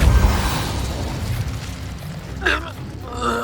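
Confringo and Incendio spells blast in Hogwarts Legacy, opening with a deep rumbling explosion that fades, then a short crackling burst and a final softer whooshing pop.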